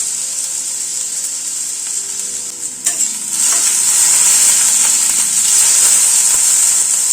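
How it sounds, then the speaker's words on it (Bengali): A medium potato cut into long strips fries in a pan with a steady, bright sizzle, a brief stir rattling partway through before the hiss swells louder and keeps going with no one talking. "আলুটাকে প্রথমে একটু হালকা করে ভেজে নেব।"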